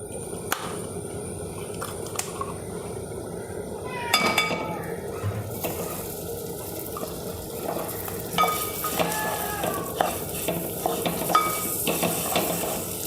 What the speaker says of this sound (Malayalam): നമുക്ക് ഈ സമയത്ത് ഇത്തിരി നെയ്യിട്ട് കൊടുക്കാം. ഇതൊന്ന് വറുക്കണം.